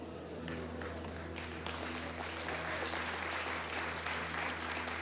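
Church congregation clapping during a Sunday morning service, a steady, fairly thin patter of hands that continues throughout with a low hum underneath.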